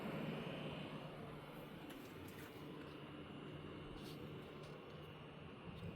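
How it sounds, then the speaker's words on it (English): Airplane engine noise near an airport, a steady broad low rumble that holds loud and continuous throughout with no break or clear approach and fade. "Once this plane moves on with its life, you'll be able to hear them more."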